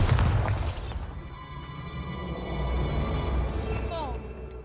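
A Bombarda blast spell in Hogwarts Legacy lands with a loud, deep boom at the start, then rumbling debris and game effects fade under scattered sounds, with another bright burst near the end.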